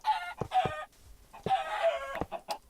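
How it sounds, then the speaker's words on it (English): Loud, close clucking from Minecraft chickens comes in two rapid bursts separated by a brief pause. "Alright, let's get rid of this and kill all the chickens."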